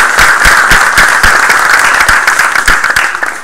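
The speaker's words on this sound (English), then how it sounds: "we'll give you another round of applause" Audience applause at a college signing-day ceremony, a dense, steady burst of many hands clapping close by for several seconds with no talk over it.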